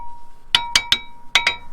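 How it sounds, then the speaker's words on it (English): Five sharp metallic taps on brake disc pads being seated against the rotor of a Mercedes CLA 250, close and distinct, in two quick groups of three and two with a faint steady tone underneath. "I'm going to tap these disc pads to fit snugly with the rotor."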